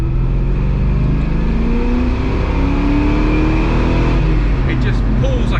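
Holden VY SS Commodore, a manual car with 400,000 km on it, revving with a deep rumbling engine note that rises and falls, loud and close, with a brief voice near the end.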